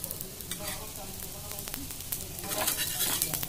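Pitha batter sizzling and frying in hot oil, a dense, steady crackle that continues throughout at close range, swelling slightly toward the end, with no talking.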